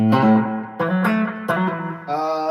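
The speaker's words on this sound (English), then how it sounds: "right now I have a short slapback analog delay on my amp on top of onboard reverb inside the amplifier." Sustained guitar notes through an amplifier with short analog slapback delay and onboard reverb ring out in a few separate phrases, each followed by a short echoing repeat and a reverberant tail, played alone.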